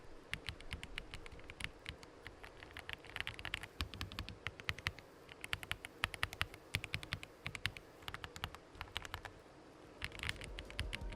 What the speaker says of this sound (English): Menel Nia 87 mechanical keyboard.